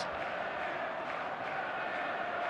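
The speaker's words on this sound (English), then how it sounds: "The stadium is full of noise and energy" Broadband stadium crowd roar from an eFootball 2025 match between Barcelona and Chelsea, a steady, dense wash of massed voices holding at constant loudness throughout with no distinct cheers or peaks.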